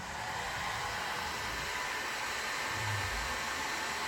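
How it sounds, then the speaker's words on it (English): A heat gun blows hot air onto a plastic blowmold, producing a steady, breathy fan whoosh with a constant motor hum, close and unbroken throughout. "round this off with the heat gun so we get a uniform finish"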